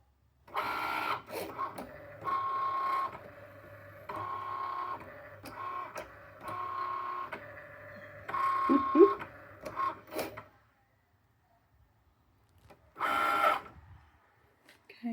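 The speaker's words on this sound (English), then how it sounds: "I don't think Milo's seen the Cricut cut before." A Cricut cutting machine runs in a series of short whirring motor bursts with quiet gaps, a few small clicks in between, then falls silent before one last brief whir; close and moderately quiet indoors.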